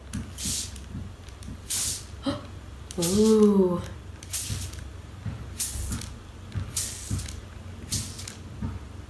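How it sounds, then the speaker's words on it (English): Repeated short hissing bursts from a water spray bottle misting coffee filters, spaced irregularly, with a brief voiced exclamation in the middle. "I'm going to start spraying"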